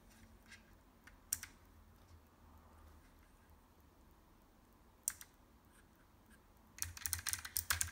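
Sparse key presses on a Keychron K1 low-profile mechanical keyboard, a few isolated clicks early and midway, then a quick cluster of typing at the end, quiet and close over a faint background hum.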